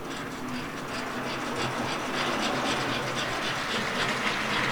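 A small model 290 Pacific steam locomotive hauls three paint-stripped cars along the track with a steady, faint rolling clatter and rhythmic chuffing.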